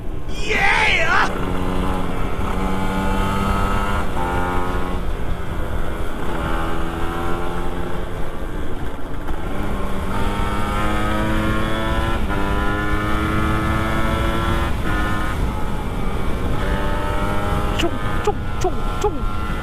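A group of two-stroke motorcycles rides at night on the road to Malino in Gowa, their engines droning steadily and close, with the pitch rising and falling as they rev, and voices talking now and then over the noise.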